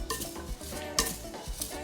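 Vermicelli and chicken being stirred in a pot, a soft scraping and clinking of a utensil against metal with one sharper knock midway, close and fairly quiet with no talk.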